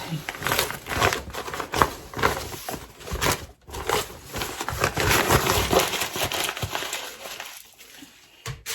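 Tear-away embroidery stabilizer is ripped away from a finished zipper bag after unhooping, giving a continuous run of crinkly, papery tearing and rustling bursts, close and fairly loud, with no talking.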